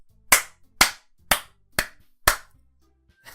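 Five evenly spaced, sharp claps ring out alone at roughly half-second intervals, like a single pair of hands applauding, with a sixth just starting at the end; the applause is for Yuri in the visual novel game Doki Doki Literature Club.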